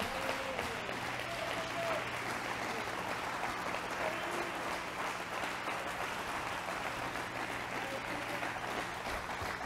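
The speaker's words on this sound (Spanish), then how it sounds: "Dele un aplauso al Señor" A church congregation applauds steadily and continuously, a dense, sustained clapping from many hands that fills the space with little variation in level.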